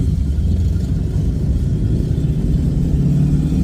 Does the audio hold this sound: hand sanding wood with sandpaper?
no